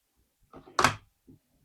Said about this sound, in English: And now I show you the action. You open the bolt.